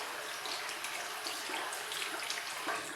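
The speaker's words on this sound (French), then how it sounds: "Et faut que l'eau soit claire, au moins ça prouve que votre pinceau est bien rincé." A makeup brush is rinsed under a running tap, producing a steady, close hiss of flowing water with light splashing changes as the bristles move through the stream.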